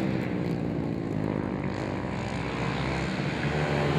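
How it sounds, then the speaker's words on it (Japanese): A Honda CBR250R racing motorcycle engine over-revs hard and steadily during a race at Shiraito Speedland, a continuous loud drone with no pauses, heard up close. "さあただいまのバックストレート3番手を走ります藤平のマシンが少々ですねオーバーレムさせたようなエンジン音を立ち取りました。"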